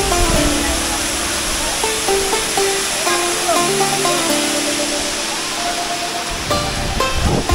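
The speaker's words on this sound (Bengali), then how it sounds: "আর আমার ব্যাকগ্রাউন্ডে দেখতে পারতেছেন অসাধারণ সুন্দর ঝর্ণা" Khoyachhara waterfall's first tier roars as a constant, dense wash of falling water, close and loud throughout, with faint voices mixed in underneath.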